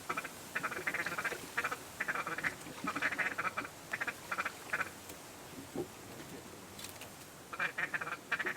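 Teal ducks (blue-winged and green-winged) during a Michigan hunt give repeated bursts of rapid, nasal quacking calls, loud and close, separated by short pauses over a low outdoor background.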